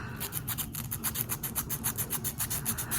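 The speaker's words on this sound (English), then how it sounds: "file my nails and stuff." A nail file rasps rapidly back and forth across fingernails in a quick, even rhythm of short strokes, close up and fairly quiet, with no talking.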